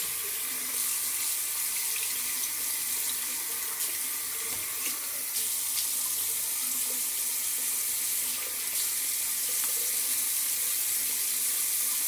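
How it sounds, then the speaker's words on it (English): Tap water runs steadily into a sink for about twelve seconds, a continuous close splashing hiss with brief bursts of splashing as water is scooped onto the face, no voices. "And I'm gonna put some water on my face."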